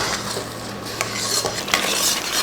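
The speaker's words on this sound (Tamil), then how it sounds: "கொஞ்சமாக ஊற்றி கிளறுங்க." A spoon stirs rava sweet with ghee in a pan, making repeated scraping and clinking strokes against the metal with a soft sizzle, close and fairly loud.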